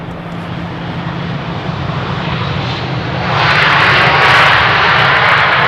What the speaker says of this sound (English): A very smooth landing for the Tarom A318